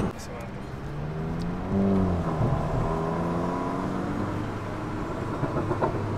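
A 2020 SEAT Leon Cupra fitted with an aftermarket downpipe hums at a low, steady idle with a brief swell in engine note, its exhaust drone running beneath continuous nearby talking.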